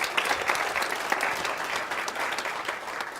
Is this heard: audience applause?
yes